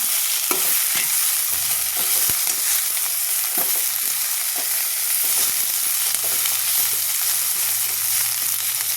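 Drumstick leaves sauté in a hot pan, giving a steady close sizzle broken by frequent scraping stirs of a spatula, with no talk.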